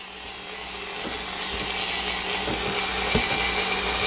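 Dremel 4300 rotary tool spinning at 5,000 RPM, a thin steady whine with faint rhythmic ticks, running alone at moderate distance and swelling slightly louder over the span.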